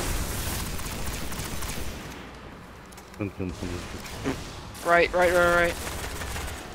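Bursts of rapid automatic gunfire ring out in the Destiny video game, two short volleys of repeated shots, with players talking over the action.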